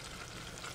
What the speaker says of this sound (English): So we're just gonna go slow, cook the bacon, render it out